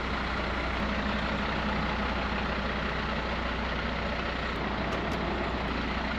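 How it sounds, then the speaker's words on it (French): A MAN truck engine of 6.9 litres, paired with a 12-speed automatic gearbox in a large motorhome, idles with a steady low rumble that stays constant and fairly close. "Là, on a le bruit d'un camion."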